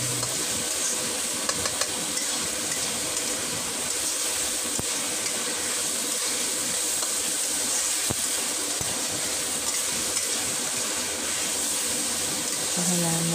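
Meat browning in a pan with a little water, a steady broadband hiss and sizzle running throughout, close and moderately loud, with faint scattered clatter.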